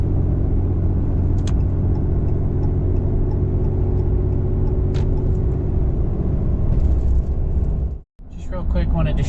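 Cab noise inside a Dodge Ram 2500 with a 6.7 Cummins diesel towing a fifth-wheel toyhauler: a steady, heavy low rumble throughout, a couple of brief clicks, and a short break near the end. No one speaks.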